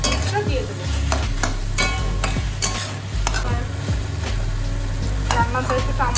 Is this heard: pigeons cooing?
no